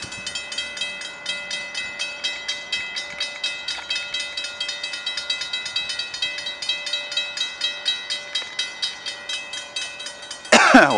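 A short CN freight train with a locomotive lash-up rolls past, its steady engine drone carrying a rhythmic clatter of wheels over rail joints, heard from nearby at moderate level, with a brief sharp burst at the very end.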